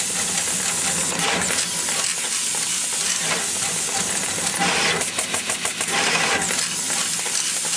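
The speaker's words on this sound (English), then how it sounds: "Was that a nozzle change?" Assembleon Topaz Xi pick-and-place machine running steadily with a continuous mechanical hiss and whir, brief clicking bursts near the end as a nozzle change occurs.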